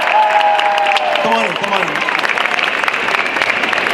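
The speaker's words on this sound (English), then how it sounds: "Can we give these people a round of applause?" Crowd applause at a comic panel honoring Stan Lee, steady clapping from a room full of people while someone speaks loudly over it near the microphone.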